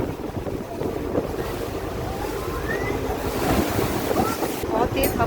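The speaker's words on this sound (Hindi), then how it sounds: "बहुत तेज़ हवा चल रही है" Strong wind roars over open water aboard a boat near Mumbai, with broadband gusting and wave wash filling the whole stretch steadily and loudly, no voices present.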